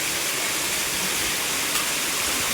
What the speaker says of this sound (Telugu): జలపాతం